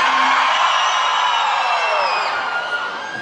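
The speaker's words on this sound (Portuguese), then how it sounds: "cadê o grito da galera?" A crowd at a lively outdoor show in Parelhas, Brazil, shouting and whooping together in one sustained roar that slowly fades, loud and dense.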